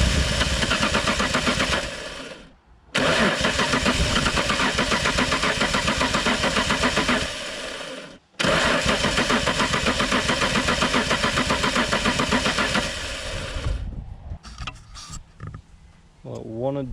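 Holden 253 V8 swapped into a Hilux being cranked to start: two long bursts of loud, steady starter grinding separated by short pauses, then a third that sputters unevenly before fading, with a voice near the end.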